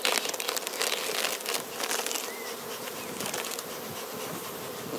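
Honeybees buzzing around an opened Warre hive, a dense steady hum of many insects close by with faint crinkling movement, no speech.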